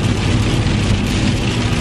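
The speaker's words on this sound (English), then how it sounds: "before it started raining like it is now." Rain falling outdoors near a store, a steady loud hiss of drops on hard surfaces with no voices.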